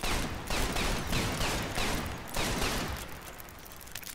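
Enemy gunfire rattles in repeated bursts during Sniper Elite 4 gameplay, loud and close, with bursts of shots separated by brief gaps and no talk over it.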